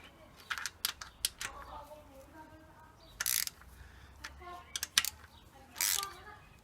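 Ratchet tightening bolts while installing a Mini alloy radiator, with a series of quiet clicking bursts and short ratcheting strokes spaced irregularly against a faint background.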